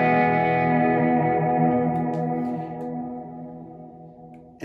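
Sustained electric guitar chord washed in reverb and delay from a single pedal, ringing loud and slowly decaying with echoing repeats over nearly five seconds, then a fresh attack right at the end.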